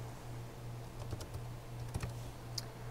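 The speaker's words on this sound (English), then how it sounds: "I'm going to type in write motor." Keys clack on a computer keyboard while a motor command is entered into programming software, a quick irregular run of close taps and clicks over a steady low hum.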